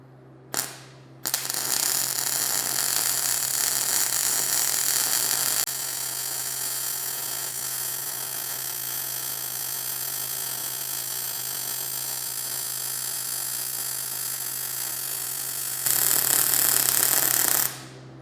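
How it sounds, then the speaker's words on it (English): Wire-feed welding on an etching press roller turning in a positioner gives a steady crackling buzz over a constant hum that runs for most of the clip and ends with a louder final stretch, with no talk. "So let's go ahead and get this sucker welded up."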